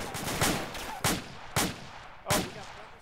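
Sniper gunfire in the video game ArmA II: four distinct shots spaced roughly half a second apart, moderately distant, over faint background ambience.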